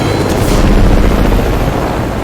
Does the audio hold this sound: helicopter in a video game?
yes